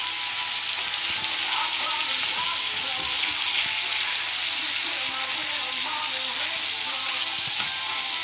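Pork chops sizzle steadily in a pan over low heat, a dense continuous frying crackle that stays loud and even throughout, with no voice over it.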